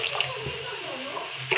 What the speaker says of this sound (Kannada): ಇನ್ನೊಂದು ಸ್ವಲ್ಪ ನೀರು ಹಾಕೋತೀನಿ